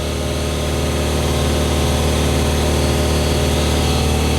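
An air compressor runs loudly and continuously in a garage, a dense steady mechanical drone with a low pulsing motor hum and no other sounds over it.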